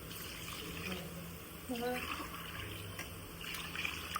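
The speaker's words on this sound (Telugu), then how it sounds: "వాటర్ యాడ్ చేసుకుందాం" Water splashes and trickles into a pot of chicken pulao in short bursts, fairly faint against a low background hum, with a brief clink partway through.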